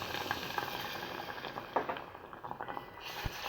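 Water pours into a pan holding a ground sugar and cardamom mixture for a quick sweet, a steady low hiss and splash with faint bubbling, continuous and close, no talking.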